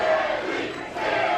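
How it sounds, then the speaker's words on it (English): A pro wrestling crowd cheering for new wrestlers, a loud roar of many voices filling the hall, swelling, dipping briefly, then rising again over a short burst. "listen to this crowd. They love the new guys"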